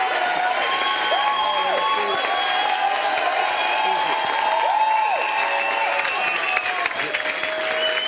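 A studio audience applauds at a French television talk show, dense sustained clapping heard throughout while a host's voice and music run over the top.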